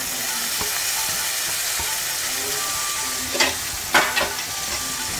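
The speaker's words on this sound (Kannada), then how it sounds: "ಟೊಮೆಟೊ ಚೆನ್ನಾಗಿ ಫ್ರೈ ಆಗಬೇಕು" Chopped tomato frying in a pan while methi rice bath is being cooked, a close, steady hiss of sizzling with a few spatula scrapes and louder bursts near the end, no talking.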